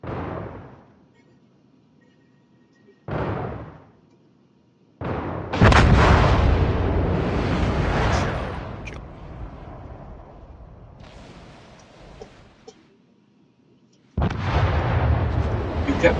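Warship guns in World of Warships fire in heavy booming salvos: sharp blasts with long rumbling decays, several spaced across the stretch, one extended rolling barrage, and another loud burst at the end.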